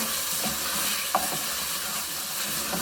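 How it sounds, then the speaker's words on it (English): Sofrito fries steadily in a pan for a Peruvian beef seco stew, a continuous close sizzle broken by a few soft stirring scrapes and clicks, with no voices. "I have to fry the sofrito just a little bit more here"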